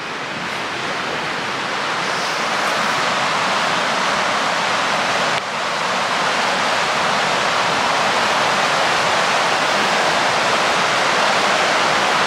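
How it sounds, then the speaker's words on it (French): A river flows near a caravan spot in Spain in winter, a loud, constant rushing wash of water that stays steady throughout, with no voices over it. "le petit bruit de la rivière là,"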